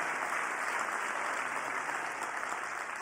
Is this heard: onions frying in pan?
no